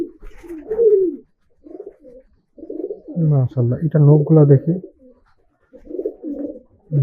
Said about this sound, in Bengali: খুব সুন্দর একটা গররা কবুতর আছে।